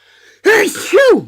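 A single sharp sneeze bursts out close by, quickly followed by a short spoken exclamation.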